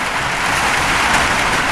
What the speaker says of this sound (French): Ça s'entend, il pleut